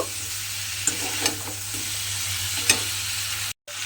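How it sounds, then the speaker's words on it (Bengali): Drumstick vegetables stir-fried with spices in a pan, a close, steady sizzle with several scraping spatula strokes and clinks, cutting out abruptly near the end, no one speaking. "এইভাবে সবজিটা দিয়েও কিন্তু খুব ভালোভাবে একটু কষিয়ে নেব"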